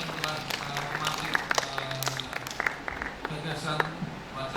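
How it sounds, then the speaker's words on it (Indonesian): A seated audience at a literary discussion applauds three speakers, scattered moderate clapping heard from mid-distance, with talking over the top. "Tepuk tangan untuk tiga narasumber kita"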